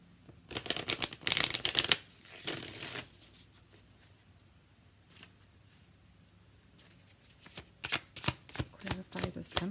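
A Sacred Creators card deck being shuffled close up, with bursts of crisp riffling and flicking cards in two busy flurries separated by a quieter stretch with soft handling, ending in a run of sharp card taps.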